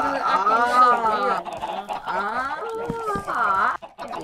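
Chickens cluck and squawk in a Minecraft-style server game, a busy run of warbling, overlapping calls that stays loud and close throughout.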